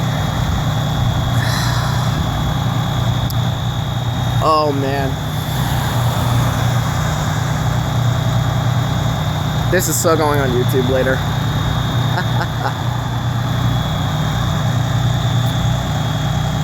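A fire truck's Cummins diesel engine idles at a fire alarm call, a loud, steady low rumble that runs throughout while someone talks close by.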